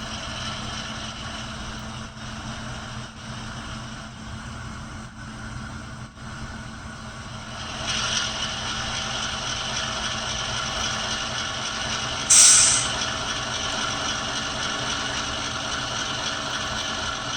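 A ScaleTrains Rivet Counter ES44AC Canadian National model locomotive with a LokSound decoder moves off at low speed, giving a steady synthetic diesel drone that swells partway through and carries one brief bright hiss.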